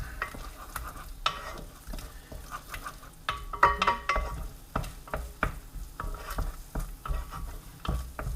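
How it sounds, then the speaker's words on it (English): Tomato paste and onions sizzling in a pan as they are stirred, with crackling fry and scraping strokes of the spoon, close and moderately loud. "You can hear the sizzle."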